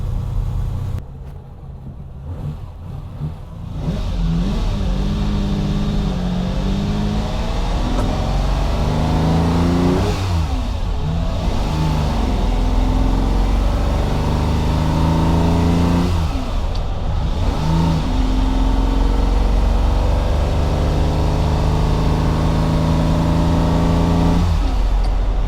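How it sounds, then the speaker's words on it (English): A red Ferrari 250 GT Lusso drives on a cold day, its engine revving loudly and repeatedly through the gears, rising and falling in pitch at close range with no talk. "Car's been sitting on a truck, so I want to take it out and just check this transmission a little bit."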